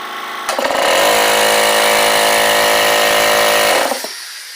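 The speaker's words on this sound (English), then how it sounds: "now I got 2 air compressors" A Goodyear 8 gallon 1hp oil-free air compressor kicks on abruptly, runs with a loud, steady high-pitched motor whine for about three seconds, then cuts off and winds down.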